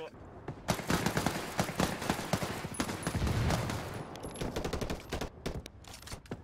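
Rapid bursts of gunfire from a video game crackle in dense, repeated volleys, loud and close, with players' voices talking over the shooting.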